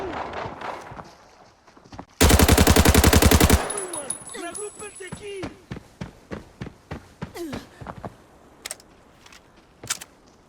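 A rapid, loud burst of automatic gunfire rips out in the Arena Breakout shooter, lasting over a second, followed by quieter scattered footsteps and equipment clicks.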